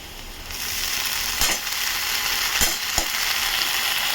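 Thinly sliced potatoes frying in a pan let out a loud, continuous sizzle, with a few sharp scrapes and clinks of stirring near the middle and end.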